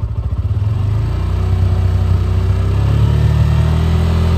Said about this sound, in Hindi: अब मैं इसको 5000 RPM तक ले जाता हूँ